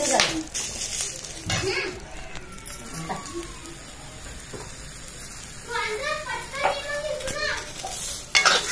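Stuffed green chillies fry in a pan with soft sizzling, stirring and metallic clinks of utensils, while someone talks over it and children's voices sound in the background.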